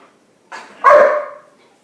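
A puppy gives one short, sharp bark on command during a home training lesson, preceded by a softer yip. Both are close and loud against otherwise quiet surroundings.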